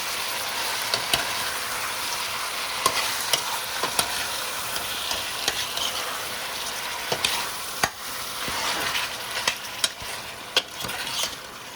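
Steady loud sizzling and frying of chicken wings and cabbage in hot oil in a pot, with occasional sharp pops and crackles, no voices.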